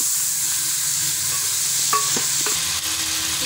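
Meat fries in about a cup of oil for Peshawari salted gosht, a bright continuous sizzle close up, with a few spoon scrapes and stirring clinks over it.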